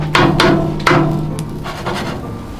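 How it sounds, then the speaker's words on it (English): A metal Blackstone griddle scraper chops through French toast on a flat-top griddle with three sharp scraping taps, followed by softer scraping, close up and without talk. "I like to use my Blackstone Griddle scraper to cut my French toast in two."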